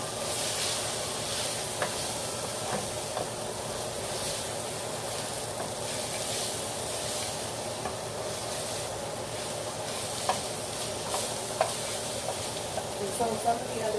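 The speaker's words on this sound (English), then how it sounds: "I'm going to try to get some caramelization on some of these veggies" Vegetables sizzle in a hot pan while caramelizing, a soft, continuous hiss with faint crackles and occasional stirring clicks, fairly quiet throughout.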